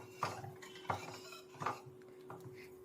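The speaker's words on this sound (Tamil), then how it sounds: "மைதா மாவை ஆட் பண்ணிட்டு நல்லா கலக்கி விட்டுக்கலாம்." A spoon scraping and knocking around a bowl while stirring flour batter with coconut milk, four distinct clinking strokes roughly two-thirds of a second apart, close and fairly quiet.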